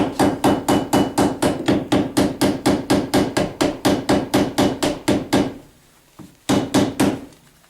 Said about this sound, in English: go ahead and peen that end